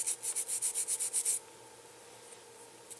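A piece of 400 grit sandpaper rubs along the edge of a circuit board from a eurorack synth kit, about ten quick rhythmic strokes close up, then quiet with a faint electrical hum.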